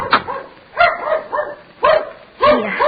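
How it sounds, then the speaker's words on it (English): A dog barks in four sharp, close bursts spaced across a few seconds, each a short yelping woof, loud against a quiet background. "that sounds like Mickey barking"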